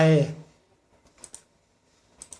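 A computer mouse gives two quick double-clicks, close and crisp, spaced about a second apart, after a brief burst of a voice at the start.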